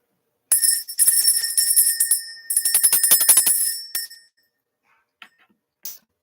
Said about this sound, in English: Let's ring this bell.